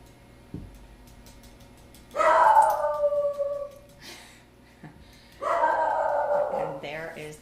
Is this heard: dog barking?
yes